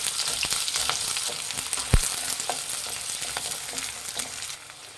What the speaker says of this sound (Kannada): ಈರುಳ್ಳಿ ಹಾಕ್ತಾಯಿದ್ದೀನಿ ಈರುಳ್ಳಿ ಫ್ರೈ ಮಾಡಿ ಚೆನ್ನಾಗಿ